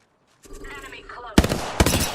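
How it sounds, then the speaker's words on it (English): Enemy gunfire in Apex Legends arrives as two loud bursts of rapid shots, the first one longer and the second one shorter, after a stretch of in-game voice audio. "They're shooting at me."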